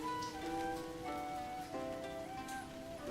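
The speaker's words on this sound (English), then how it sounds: "I hear the not-so-distant sound of rainfall." Steady rainfall in a visual novel video game: a constant, even hiss of falling rain with soft drop texture under a calm sustained background music tone, no talking.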